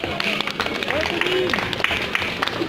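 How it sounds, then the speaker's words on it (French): Brief, scattered audience clapping at a Lolita fashion show runway at a Japanese culture festival, fairly faint and mixed under a voice speaking over it. "On applaudit tous Pauline."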